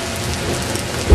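Heavy rain from a fast-moving severe thunderstorm in Meridian, Mississippi, a dense steady roar that swells louder near the end, with no talk over it.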